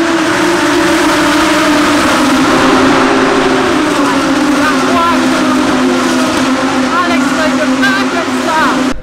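Audi R8 LMS Cup race cars on a warm-up lap, heard as a steady, loud engine drone with a continuous tone running throughout and no break.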